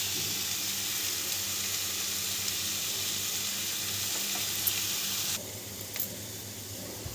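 Homemade cumin powder and coriander powder fry in a pan before pasta goes in, giving a steady close hiss of sizzling oil that drops a little in level near the end.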